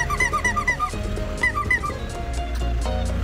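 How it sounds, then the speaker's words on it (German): A squeaky bulb horn, carried by a street cleaner, honks in several quick, shrill bursts, with a repeating squeak pattern over a busy background of other noise and music-like tones, close and fairly loud. "die Quietschhupe"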